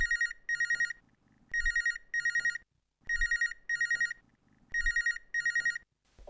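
A telephone rings repeatedly for an incoming call on a farmers' radio phone-in programme, in bright double bursts separated by short pauses, close and clear, with no talk over it.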